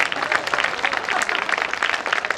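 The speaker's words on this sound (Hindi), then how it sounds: "मेरे लिए एक बार पहले से आप ताली बजा दें जोरदार" Strong audience clapping in a university hall during a session with officers, a busy rhythmic patter of many hands that stays loud and steady for the whole stretch.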